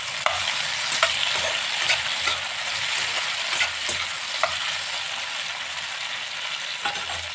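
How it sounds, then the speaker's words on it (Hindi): Mushrooms frying in hot oil for a spicy mushroom, pea and cauliflower curry, a steady close sizzle throughout with light scraping strokes of a spoon in the pan. "तेल गर्म हो जाए तो मशरूम को डाल दिए।"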